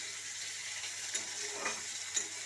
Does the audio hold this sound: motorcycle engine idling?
no